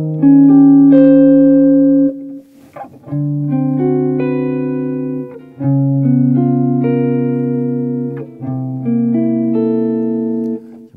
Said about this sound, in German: Und so klingt unser kleiner Turnaround mit Tritonussubstitution.